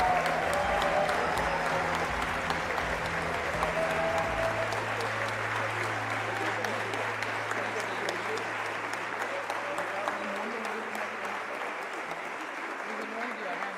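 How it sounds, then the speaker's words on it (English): Audience at a global summit gives award winners a steady round of applause, sustained broadband clapping at moderate level that slowly thins toward the end, with brief speech at the start. "Round of applause."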